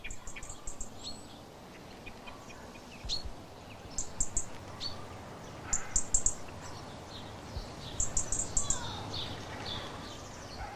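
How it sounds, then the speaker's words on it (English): A European robin gives a scolding call in a British garden: short, sharp high ticks and chips that come in scattered clusters over a faint outdoor background. "Robins have a scolding call."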